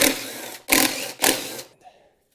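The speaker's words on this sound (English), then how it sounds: "What I'm gonna do is remove these 3 bolts." Bolts being removed from the bearing mount of an Ariens snowblower with a power tool, three loud close bursts of whirring about half a second each, the last trailing off into quiet.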